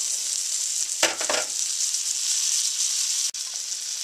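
An egg fries in a pan with a steady, bright sizzle throughout, broken by a short scrape of a spatula near the start and a brief click later, with no voices.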